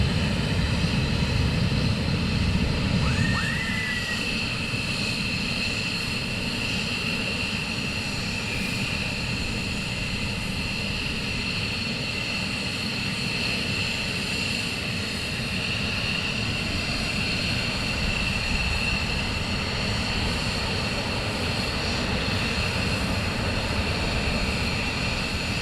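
A military jet taxis at RAF Lakenheath, its engine a loud continuous whine and roar that holds steady close by throughout, with a brief higher chirp early on and no voices.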